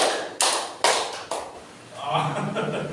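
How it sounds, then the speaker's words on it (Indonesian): Students in a classroom clap in a short counted rhythm game, three sharp hand claps spaced evenly before a teacher's voice continues speaking. "Oke, tepuk satu, tepuk satu, tepuk dua, tepuk tiga."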